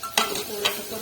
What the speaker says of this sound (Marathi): थोडंसं परतून घेऊ त्याला।